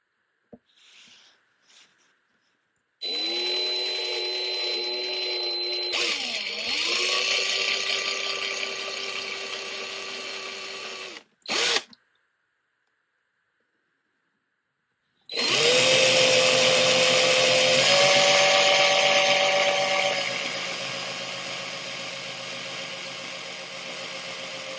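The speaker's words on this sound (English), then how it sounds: "I'm going to proceed to drill these out a little bit here." Power drill whirring in bursts while boring screw holes in a guitar body, two long runs with pitch dips as the bit bites, separated by short silences and a brief blip, close and fairly loud, no talk.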